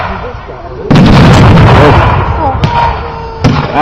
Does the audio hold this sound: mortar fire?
yes